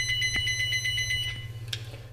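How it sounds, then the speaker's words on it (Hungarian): A fire alarm sounds inside a fire station, a steady electronic tone with pulsing high overtones over a low mechanical hum, loud and continuous, with a brief bright ping near the end. "Riasztás tűzesethez, gazdasági épület."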